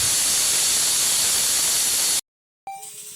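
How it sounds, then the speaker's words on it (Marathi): A pressure cooker cooking masoor lentils lets out a loud, steady hiss of steam for about two seconds, then cuts off abruptly into silence before a faint tonal sound. "इथे मी मसूरचा कुकर लावला होता"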